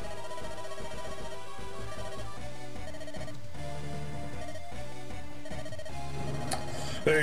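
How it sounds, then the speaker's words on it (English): A telephone keeps ringing in a repeating pattern against a busy background of music and game sounds, with no talk in between. "So now it's just me waiting for the phone to stop ringing."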